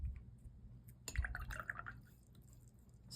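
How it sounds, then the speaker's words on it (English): Water drips and dabs onto a paper swatch of Conklin 1898 Misto Purple fountain pen ink, a few soft wet taps and squishes, close and quiet with no speech. "And we'll put some water on it"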